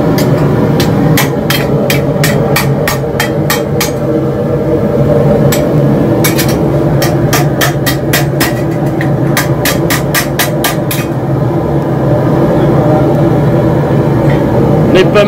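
A hammer beats metal while an armor piece is forged, in quick bursts of sharp ringing strikes with short pauses between, loud and close over a steady low workshop hum.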